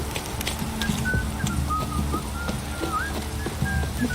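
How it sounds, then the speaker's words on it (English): A heavy rain downpour in the video game The Witcher 3 hisses steadily and evenly throughout, with faint thin whistling tones drifting over it. "This downpour's a bastard, it is."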